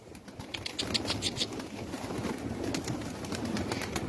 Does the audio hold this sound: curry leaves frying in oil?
no